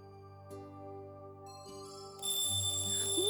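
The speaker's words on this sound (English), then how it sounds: "Wake up and stop the alarm! I can't stop it! It's been ringing for ages!" An alarm clock in the visual novel game Amnesia: Memories rings on and on, a steady electronic tone that rises in loudness partway through, layered over soft background music with no talking.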